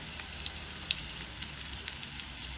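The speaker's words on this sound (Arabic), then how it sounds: "بصوا كده بتشوح اهوت" Potatoes sauté in a hot pan, giving a steady close sizzle with a few faint pops and crackles and no voices.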